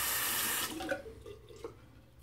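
Water from a tap runs steadily in a sink for someone rinsing after a shave, then cuts off, leaving a few faint splashes and drips nearby.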